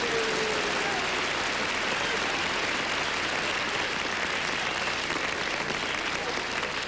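A studio audience on the game show To Tell the Truth applauds steadily, a dense, even wash of clapping held at full strength from start to finish with no talk over it.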